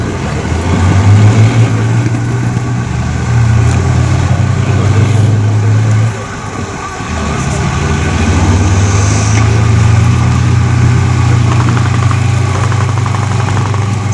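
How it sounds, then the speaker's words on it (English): Cromwell and Centaur tanks roar loudly as they accelerate side by side in a race, deep engine drone rising and dipping around gear changes, with a brief lull midway before the engines swell again. "this is not just about engine power, it's also about the skill of the driver getting through the gears"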